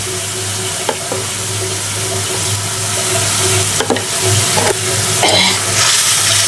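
Spices frying and being stirred in a pan with water, salt and turmeric for a beef-liver bhuna, giving a steady sizzle with repeated scraping strokes of the spoon and no talk.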